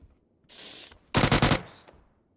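AK automatic fire in the battle royale game PUBG: a faint earlier sound, then one loud half-second burst of rapid shots, then a quieter trailing noise.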